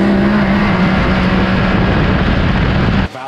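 A homemade car mashed from a standstill on wet ground roars with a loud, steady engine drone close by for about three seconds before cutting off abruptly.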